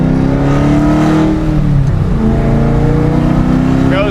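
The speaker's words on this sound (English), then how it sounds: "All right, driving this here C5Z." A C5 Z06 Corvette fitted with a McLeod clutch drives and accelerates, its loud, steady engine drone rising as it pulls through the gears from inside the car, with no talk.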